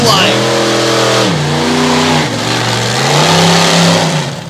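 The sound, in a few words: drag racing car with big Hemi 575 cubic inch engine launching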